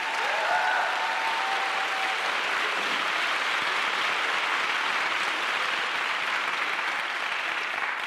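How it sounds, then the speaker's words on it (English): Sustained applause from a seated audience at a city's State of the City address fills the room steadily and loudly for the whole stretch, with a brief tone and faint voices early on. "Give them another round of applause"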